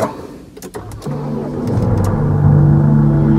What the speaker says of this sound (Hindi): तो पहला क्रैंक महिंद्र ने हमें स्वागत कर दिया है